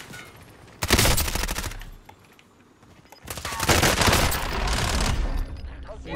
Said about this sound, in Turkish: Roket attı abi.